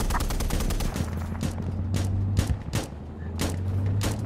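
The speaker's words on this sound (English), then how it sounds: "There's literally someone next to me shooting me." Gunfire in the first-person shooter Insurgency: a rapid run of sharp shots and bursts, some close and loud, others further off, over a steady low rumble of battle ambience.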